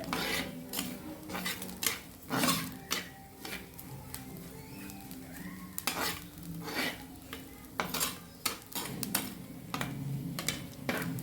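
Grated coconut is roasted on a medium flame and stirred in a pan, producing repeated gritty scrapes of a spoon across the pan over a soft sizzle, close and irregular, with no talking.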